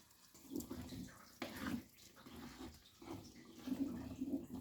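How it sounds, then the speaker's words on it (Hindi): Rinse water from a washed jar splashes and pours steadily into a pot of matar paneer gravy in several soft, uneven bursts, close by but fairly quiet. "जार को धो के उसका पानी हम इसमें डाल देंगे"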